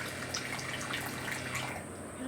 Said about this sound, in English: because it's pouring water from the start of the pour